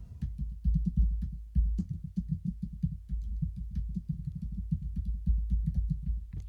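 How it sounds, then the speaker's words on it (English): Muffled, bass-heavy keystrokes tap in a steady, busy stream, a dull continuous clatter of typing on a computer keyboard picked up by a 512 Audio podcast microphone, with no voices. "Here's what it sounds like on the keyboard."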